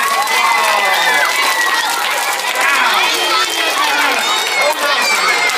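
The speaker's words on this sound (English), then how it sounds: "Give Scarlett a great big round of applause." Loud audience applause mixed with cheering and excited children's shouts at a live family magic show, a lively crowd roar with overlapping voices throughout.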